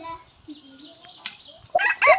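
Chickens cluck and squawk during capon surgery, with soft murmuring early on, then a sharp single call and two louder bursts of squawking near the end.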